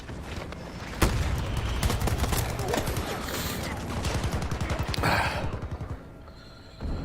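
Rapid gunfire in Battlefield 2042, with dense bursts of automatic shots and sharp cracks that are loud and close and run almost without pause.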